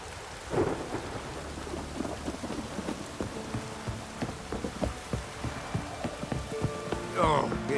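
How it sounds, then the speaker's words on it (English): Rain and thunder in the video game The Witcher 3, a steady hiss of rain with rolling, rumbling thunder and scattered drops, fairly loud and continuous throughout. "Oh, it's drizzling, sir."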